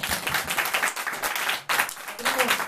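Audience applause for a band's drummer at a live performance, a brief burst of dense clapping with cheering voices mixed in.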